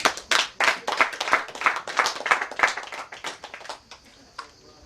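An audience at a Rotary Club installation ceremony applauds the chief guest, many hands clapping in a dense burst that thins out and fades after about four seconds.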